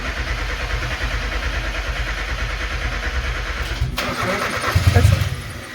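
A turbocharged Mazda Miata, with no exhaust fitted, cranking for its first start: a steady churning starter drone, then the engine catches with a loud, close burst that settles into a rough idle.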